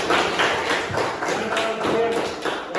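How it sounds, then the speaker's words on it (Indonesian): A classroom group claps hands together in a steady, dense round of applause during a grade 4 lesson, the clapping filling the room at close range with soft rhythmic swells. "Oke, tepuk tangan untuk kita semua."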